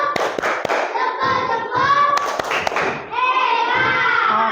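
A class gives a rhythmic thumb-clap cheer for a student group, a series of loud hand claps and thuds mixed with children's voices and a teacher talking throughout.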